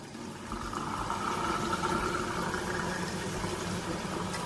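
Plain water pours steadily into a film developing tank as a stop bath, a continuous splashing, gurgling fill that holds an even level throughout, heard alone without talk.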